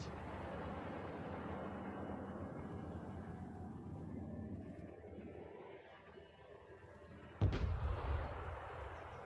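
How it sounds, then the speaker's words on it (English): Precision strike explosions in the video game Broken Arrow, starting as a steady, rumbling wash of distant battle noise, then a sharp, loud blast near the end followed by heavier rumbling. "I know where that AA is, so... Precision strike, take it out."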